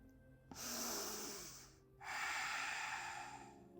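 Two slow, deep inhalations through the nose during a yoga session, each a long airy rush lasting over a second, close and soft in a quiet room.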